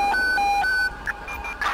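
A police car siren in Grand Theft Auto V wails in a loud two-tone pattern, switching back and forth between high and low pitches, then breaks into brief yelps near the end.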